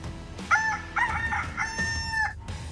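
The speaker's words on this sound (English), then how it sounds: "Chicken." A rooster crows close by: one loud drawn-out cock-a-doodle-doo with a rising start and a long held final note, with no talking.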